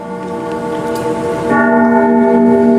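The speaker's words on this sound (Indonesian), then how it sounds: "Ibu bapak kita dengar dentuman bel nggak?" A bell rings with a sustained, humming metallic tone that swells when a second strike lands midway, its overtones lingering steadily.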